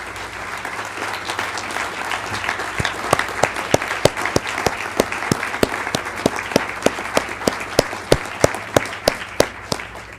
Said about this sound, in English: have you acknowledge them with a round of applause